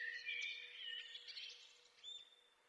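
A song thrush sings with a few clear, high whistled phrases. The song is faint and distant against a quiet background.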